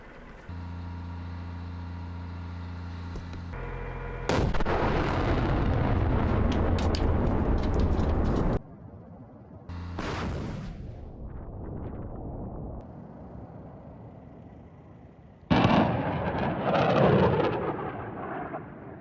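U.S. Marines M142 HIMARS rockets launching in Norway: a loud, sustained roaring rush that fades, then a second launch blast and another roaring burst near the end, with no voices.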